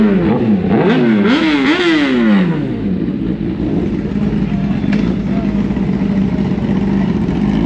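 A Kawasaki ZX10R superbike engine revs hard several times in rising and falling sweeps, then settles into a steady, loud, close idle rumble.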